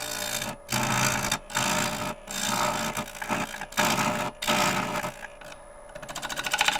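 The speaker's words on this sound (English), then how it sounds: "You're hearing there is just a little bit of my jam chuck rattling around" Wood lathe turning a maple crotch bowl with a sharp bowl gouge, a loose jam chuck rattling along with the cut as steady rasping, scraping passes broken by short pauses, fairly close.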